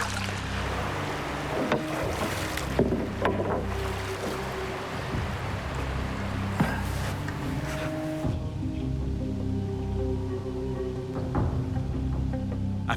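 A canoe is paddled steadily through remote Amazon waters on a fishing trip, with repeated soft dips and splashes over a continuous low hum, close by and without talk.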